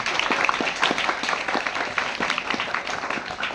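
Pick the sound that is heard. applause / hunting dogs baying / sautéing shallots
applause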